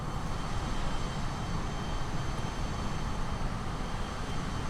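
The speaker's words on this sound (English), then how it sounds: "Executive jet taking off ahead of us, I guess." An executive jet takes off in Microsoft Flight Simulator, a continuous broadband engine roar that holds steady and fairly loud throughout with no talk.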